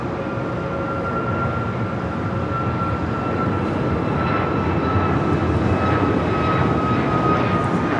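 An airliner arriving at LAX gives a loud, sustained engine roar with a steady whine running through it, close and continuous with no talk.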